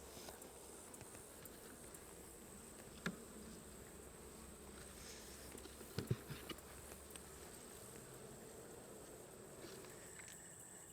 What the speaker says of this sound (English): keep those bees calm